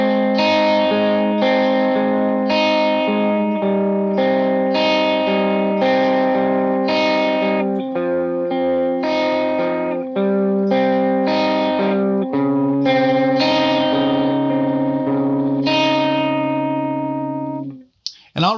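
Clean electric guitar picking out an arpeggio with no effects, distinct ringing notes following one another in a steady pattern, close and clear, ending on a held chord.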